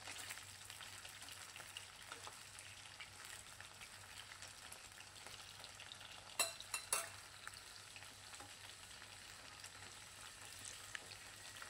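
Chicken pieces frying in oil in a pan give a steady, faint, continuous sizzle, broken by a few sharp clicks partway through, with no voices.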